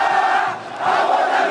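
A loud stadium crowd of Ponte Preta supporters roars in the Brasfoot football game, a dense continuous swell that dips briefly in the middle before rising again.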